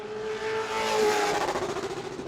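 A pro late model race car at New Smyrna roars through turns 3 and 4 on a qualifying lap, engine note rising then holding steady, loud and continuous with a slight pitch sweep as it passes.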